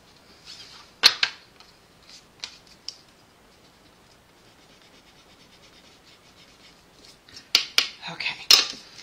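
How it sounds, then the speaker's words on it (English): Paper card stock being fussy cut by hand with scissors, sharp snips in short clusters near the start and a quick burst at the end, with quieter handling in between. "I'm just going to fussy cut it."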